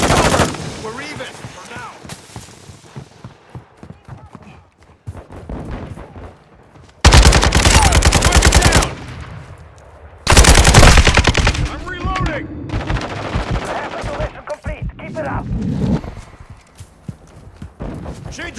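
Gunfire in Call of Duty: Modern Warfare II Team Deathmatch, with loud bursts of automatic weapons and sharp shots up close, broken by quieter gaps with game voice callouts and ambient battlefield noise.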